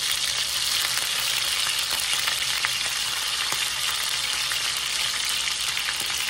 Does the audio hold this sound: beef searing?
yes